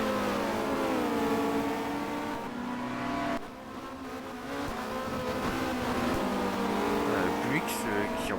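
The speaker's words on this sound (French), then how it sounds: "Buick qui roule comme un furieux là, qui va bloquer Coulthard" A Buick touring car races hard at Monza in a 1990 touring car race, its engine revving loudly and shifting pitch under continuous commentary, with other race cars roaring nearby and a brief tire squeal near the end.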